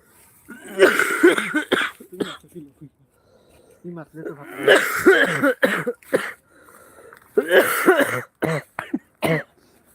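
A man coughs in three harsh bursts of hacking coughs separated by pauses, close to the microphone, at an outdoor religious gathering in the Barak Valley.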